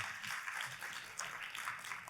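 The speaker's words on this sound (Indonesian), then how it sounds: "Tepuk tangannya yang paling meriah buat Tuhan kita." Faint, distant applause comes from a church congregation, a soft continuous patter of many hands clapping through the short stretch.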